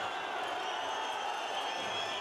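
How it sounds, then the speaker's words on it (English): Polish home crowd at a European Championship handball match against France, a steady dense roar with whistling and shouts filling the arena, continuous and loud with no clear breaks. "Polish crowd doing their best to unsettle"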